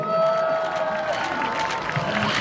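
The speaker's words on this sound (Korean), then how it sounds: "사랑해준 분들 박수 한번 부탁드리겠습니다" Applause and cheering from a seated crowd of about a hundred at a performance during a Kyungpook National University Sangju campus festival, a brief burst of clapping with a ringing tone through it, moderately loud and close.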